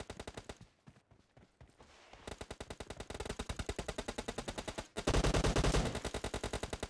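Rapid automatic gunfire from a PUBG Mobile match, loud, close bursts of evenly spaced shots with brief pauses between volleys, no voices over it.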